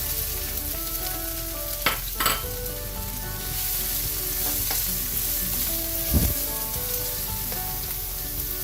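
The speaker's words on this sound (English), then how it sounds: "I'm going to start by heating and frying my onions" Onions frying in a pan of hot olive oil, a continuous close sizzle with a few sharp stirring scrapes and clatters over a constant hum.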